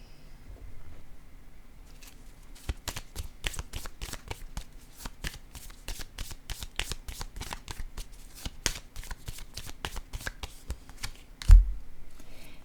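Tarot-style cards being shuffled for a card reading, a long run of quick crisp riffling flicks at an even rhythm, close and soft, ending with a single louder tap.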